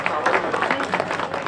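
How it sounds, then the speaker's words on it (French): An audience applauding at a Crédit Mutuel podium ceremony in Torcé-en-Vallée, steady close clapping from a crowd throughout, with speech mixed in over it. "Et encore des applaudissements fournis sur ce podium du Crédit Mutuel"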